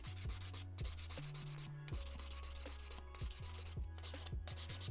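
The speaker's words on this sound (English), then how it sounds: "I'm holding my hand file almost at a slight angle." A soft-grit hand file rubs back and forth on an acrylic nail, tapering its apex in quick, even strokes, faint and close, with a low music bed beneath.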